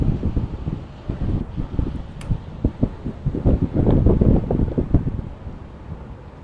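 Wind at sea during a sailing match race in a 10-knot breeze buffets the microphone in gusty, uneven bursts, with the wash of water underneath.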